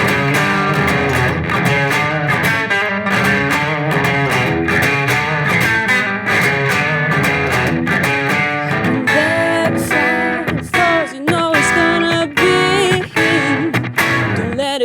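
An electric guitar plays a blues riff in E over a full, steady band groove, loud and driving with choppy rhythmic accents and no talking.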